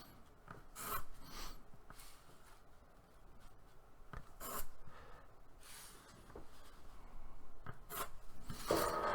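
A desk chair creaks and rubs in irregular bursts while someone sits drawing a city in two-point perspective, with a dry wooden scraping quality, close and fairly quiet, and no speech.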